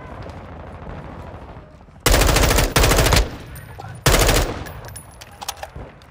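Loud automatic gunfire in a military video game arrives in two sustained bursts, one with a brief break, over quieter ambient battle noise. Scattered smaller pops follow.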